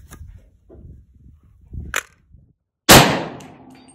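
A single loud rifle shot from a rifle firing SIG ammunition cracks sharply out of near silence, then decays over about a second; faint low rumbles and shuffling come before it.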